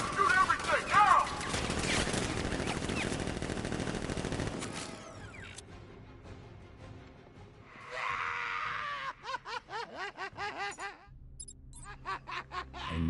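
Batman: Arkham Knight battle opens with rapid, dense gunfire and shouting for several seconds, then gives way to quieter scattered sounds, chattering squeaks and laughing voices.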